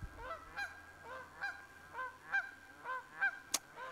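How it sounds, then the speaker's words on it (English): Geese honking repeatedly at a beaver pond in a park, with evenly spaced calls at moderate distance over quiet outdoor background and a sharp click near the end. "There's obviously lots of geese."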